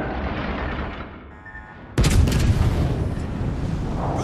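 Naval guns on the battleship Tirpitz in World of Warships Legends fire as one loud, abrupt salvo after a quieter stretch, followed by a rumbling, sustained roar and crackle that lingers.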